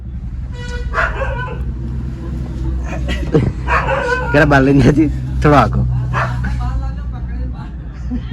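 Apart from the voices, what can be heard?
dog barking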